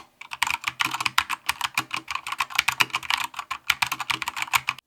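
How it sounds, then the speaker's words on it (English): Keys clack steadily on a backlit Bluetooth mechanical keyboard, a close, crisp stream of fast typing strokes with an even rhythm and no voices. "Clicking the keys is super satisfying."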